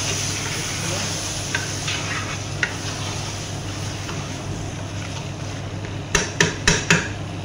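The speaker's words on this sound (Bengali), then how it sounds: "ভালোভাবে নাড়া দিলাম" Lamb kabsa stirred in a pot, a continuous scraping and bubbling churn with a faint sizzle. It ends in a burst of four sharp clanks, likely the spoon tapping the pot rim.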